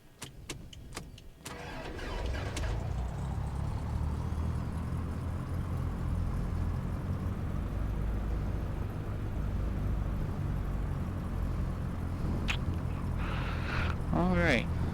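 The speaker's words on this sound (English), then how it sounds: "The engine sounds are going right now." A few clicks, then an aircraft piston engine in X-Plane 12 cranks and catches, settling into a steady low rumbling drone that runs on while a voice speaks briefly near the end.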